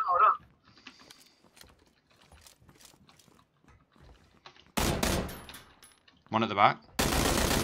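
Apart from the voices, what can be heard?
gunfire in video game PUBG, Player Unknown's Battlegrounds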